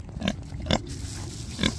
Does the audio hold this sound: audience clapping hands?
no